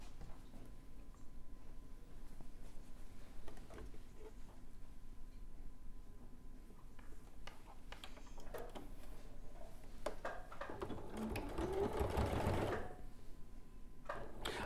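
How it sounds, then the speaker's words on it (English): A sewing machine runs steadily while stitching stretchy velour fabric, a close, even mechanical whir with faint ticking that swells slightly louder toward the end. "I'll sew this one on this side."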